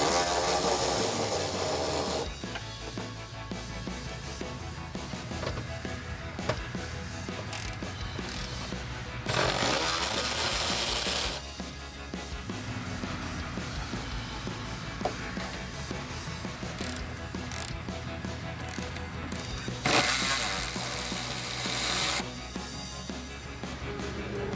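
Ratchet and deep socket backing spoiler nuts off a 2010-2014 Mustang GT rear deck, a close steady rasping, clicking rhythm running almost continuously, with brief louder bursts in between.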